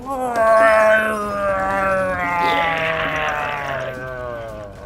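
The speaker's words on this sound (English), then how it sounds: "Oh, you hear in the background? Well, it's a giant snow wolf" A giant snow wolf monster in the video game Wild Hearts lets out a loud, drawn-out tonal cry that wavers and slowly falls in pitch, filling about five seconds.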